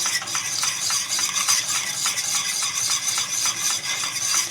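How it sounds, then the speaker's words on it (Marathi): A spoon stirs pitla, a gram flour batter, in a pan over low gas, giving continuous close scraping and gentle thick swishing in a quick, even rhythm, with no talk. "गॅस बारीक करून चांगलं हलवून घ्यायचं आपल्याला"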